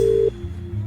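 A phone call that fails to connect: a steady electronic tone plays for about a third of a second, then cuts off, leaving low background hum.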